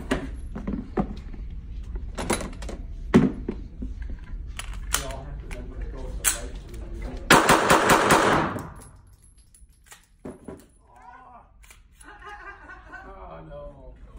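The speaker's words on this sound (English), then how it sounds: "You want to shoot the rest out of that mag?" Gunfire as a magazine is emptied at a shooting session: a string of sharp shots, a dense rapid burst in the middle, then quieter sporadic pops, with people talking and laughing nearby.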